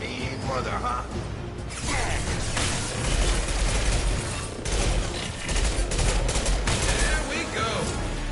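Heavy weapon gunfire in the video game Mass Effect Legendary Edition: dense, continuous bursts of loud automatic fire and blasts with mechanical clatter, swelling and easing in waves throughout.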